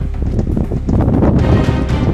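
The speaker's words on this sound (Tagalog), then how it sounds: "Lakas ng hangin, oh." Strong mountain wind at a high-altitude campsite in Atok, Benguet roars and buffets the microphone continuously at high volume, with low rumbling gusts throughout.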